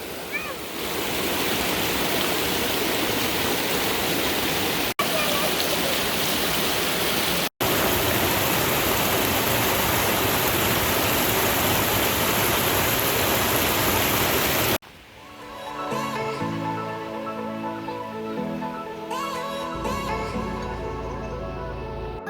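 Water from a small creek rushes steadily with a dense, close, hiss-like flow for about fifteen seconds, then gives way to music.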